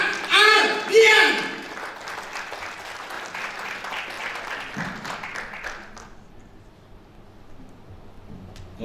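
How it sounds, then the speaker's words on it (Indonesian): Audience applause greets a speaker being welcomed at an AFC event in Sorong, loudest in the first second or two and then thinning into scattered clapping that fades out with crowd murmur. "berikan tepuk tangan Bapak Ardian"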